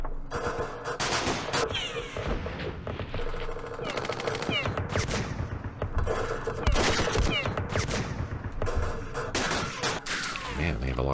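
Rapid bursts of automatic gunfire and single shots crackle back and forth in a dense exchange, loud and continuous, with overlapping volleys from a firefight in the war game Campaign Series Middle East, set on a ridge in Yemen.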